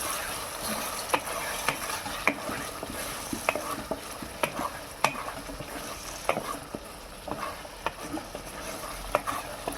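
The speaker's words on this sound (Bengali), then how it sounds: "আবারও এটাকে ভালো করে কষিয়ে নেব।" Beef mince with yogurt and chickpeas stir-fries in a pan, a steady close sizzle with a spatula scraping and clinking at an irregular pace, no voices.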